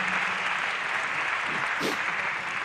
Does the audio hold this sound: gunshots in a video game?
no